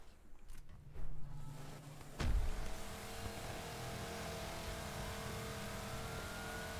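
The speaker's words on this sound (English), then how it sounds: "Someone's doing burnouts on the streets below. Which are weirdly really loud." Car doing burnouts on the streets below in the video game Crackdown, a rising, roaring engine and tire screech that swells after a brief thump, then holds as a steady, moderately loud drone.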